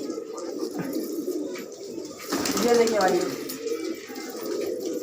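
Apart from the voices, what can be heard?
fancy pigeons cooing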